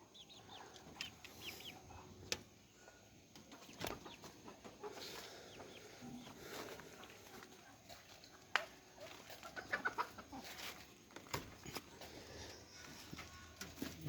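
Desi chickens cluck softly and intermittently in a quiet backyard, faint scattered calls with a few sharper bursts and occasional distant bird sounds.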